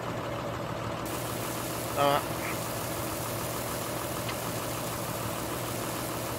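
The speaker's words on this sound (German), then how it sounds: "Ich glaube zu vermuten, die Traktoren sind ein bisschen zu laut" Tractor engines in the farming game Landwirtschafts-Simulator 19, with straw hauling underway, idle in a steady, loud mid-range drone throughout, while someone speaks briefly over it.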